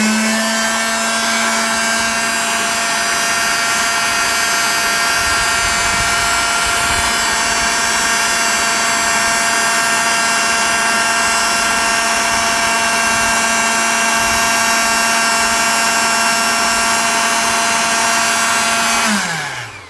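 An HL9000 electric sanding machine runs continuously for about twenty seconds, a loud steady high whine with a constant hum that winds down at the very end.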